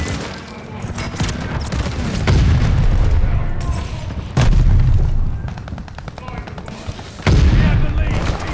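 Airstrike explosions in a video game hit as a series of heavy, booming blasts, loud and close, with rolling rumble and crackling debris that swells repeatedly in waves.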